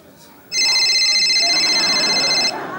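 A dropped mobile phone rings with a loud, steady electronic ringtone of bright pulsing tones for about two seconds, then stops, leaving faint room background.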